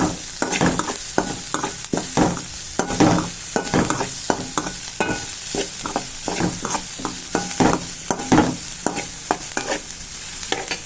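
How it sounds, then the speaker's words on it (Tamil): Egg masala ingredients are stirred in a pan over a loud continuous sizzle, with rapid repeated scraping and clinking strokes of a spoon against metal, close and busy throughout. "எல்லாத்தையும் சேர்த்து நம்ம நல்லா கிண்டி விட்டுக்கலாம்"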